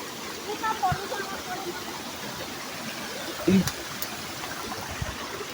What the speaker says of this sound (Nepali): एउटा यत्रो ठुलो खोला बगेर रहेछ फेरि यहाँ।